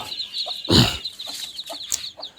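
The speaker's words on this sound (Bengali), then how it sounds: "এই দেশি মুরগির এই বাচ্চাগুলো দেখানোর জন্য" Close clucking from a native hen with soft, high peeping of about 20 newly hatched chicks, in short scattered calls and one louder burst early on.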